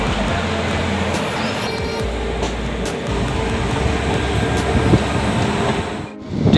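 Inside a general coach of the Bareilly–New Delhi Intercity Express, a steady loud rumble and rattle of the running train continues throughout, with faint clatter on top and a brief dip near the end.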